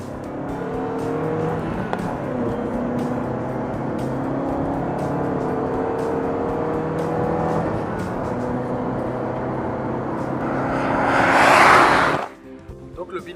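A test car fitted with connectivity equipment drives at high speed, its engine and road roar holding steady with rising and falling tones before a loud rushing swell as it passes, then an abrupt drop; a voice talks over it.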